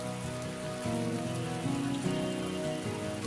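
Steady rain falls throughout a drama scene, a dense, even patter that sits continuously under tonal background music.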